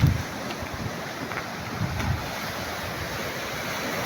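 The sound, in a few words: sea waves on the shore at Bangunay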